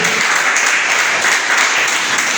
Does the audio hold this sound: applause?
yes